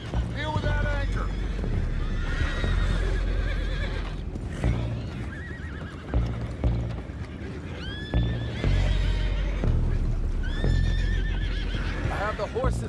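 Horses on a boat in Red Dead Redemption 2 give repeated shrill neighs and whinnies close by, with hooves stamping beneath, while characters talk over the scene.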